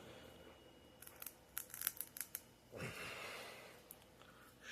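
Scissors with a broken handle cutting through plastic trike parts: a quick run of sharp snips and crunches, then a longer tearing rasp, close and fairly quiet, with breathing between cuts.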